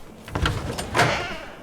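A back door creaking open in the King's Quest video game, two short bursts of wooden scraping and knocking within a second and a half, close and fairly loud, no talking.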